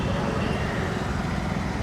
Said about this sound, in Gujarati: જો આ બાજુ એટલી ટ્રાફિક છે